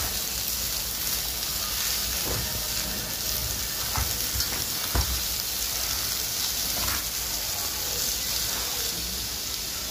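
Potato and carrot pieces fry in a pan while being stirred, for a singara filling: a steady, close hiss of sizzling oil with scattered scraping and clicking from the spoon, alone with no voices.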